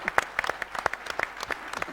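A conference plenary audience gives a speaker applause, made up of a scattered, moderately close patter of individual hand claps at an uneven rhythm rather than a dense roar.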